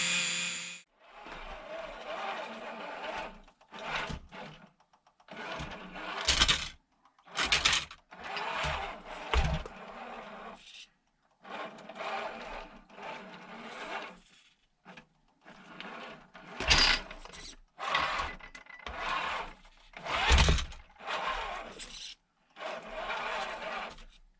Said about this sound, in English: now we are on 4 volt, and I will let it run for maybe half an hour and see if the axles run smoother then